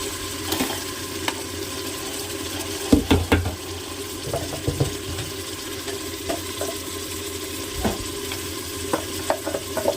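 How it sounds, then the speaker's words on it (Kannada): Mint, coriander, fenugreek and ginger-garlic paste frying in a pan, a soft sizzle under repeated scraping and stirring clatter from a spoon, no talking. "ಪುದೀನ, ಕೊತ್ತಂಬರಿ, ಮೆಂತೆ ಹಾಕೊಂಡು ಸ್ವಲ್ಪ ಫ್ರೈ ಮಾಡೋಣ."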